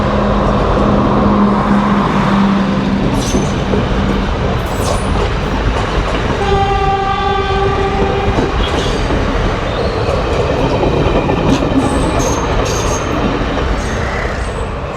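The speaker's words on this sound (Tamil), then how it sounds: "பழைய ட்ரெயின் தான் போகுது." An old train passes close by in Colombo, Sri Lanka, loud and continuous, with rolling wheel rumble, rhythmic clatter on the rails and a long stretch of high metallic squealing from the wheels.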